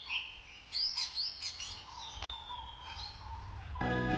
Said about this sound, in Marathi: मंदिरात जाण्याआधी तुम्ही हा पक्ष्यांचा आवाज ऐका.